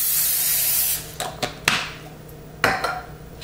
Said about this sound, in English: take a little bit of nonstick cooking spray and spray that on the pan